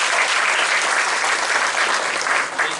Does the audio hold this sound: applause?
yes